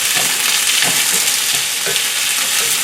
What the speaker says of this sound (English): stir fry the green pepper and the onion in. Listen to the sizzle sound.